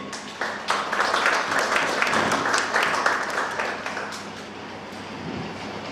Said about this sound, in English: we deserve a huge round of applause for the same